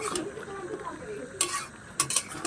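A spoon stirs shrimp curry with pumpkin and greens in a pan. Soft scraping and clinking against the metal come in short bursts over a faint sizzle, close by.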